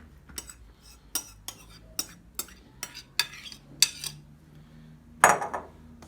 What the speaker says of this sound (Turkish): Şimdi hepsini birden katıp karıştıracağım.